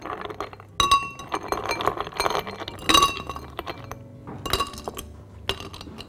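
Ice cubes dropped into a glass for a mint and lemon soda drink, several bright clinks and rattles at irregular intervals, close and clear with no talking.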